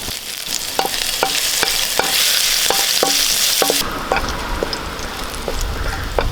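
Cumin seeds and crushed garlic sizzle loudly in hot coconut oil, a dense close crackle broken by a few sharp stirring taps, with no talking.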